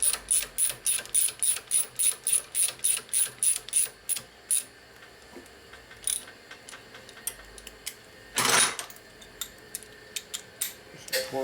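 Ratcheting wrench clicks rapidly while tightening a bolt on a Harley Evo rigid bobber chopper, a fast regular burst of close metallic ticks, then slower scattered clicks and a short harsh rasp.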